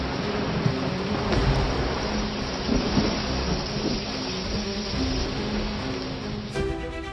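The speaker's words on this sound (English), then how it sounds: "Night came roaring with rain and waves." Steady roaring wash of heavy rain and surging waves, loud and continuous, with deep rumbling underneath throughout.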